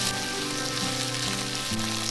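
Beef cubes stir-frying in a hot wok with sliced garlic, green and red peppers and radish: a dense, loud, continuous sizzle and crackle, close up, with no voices.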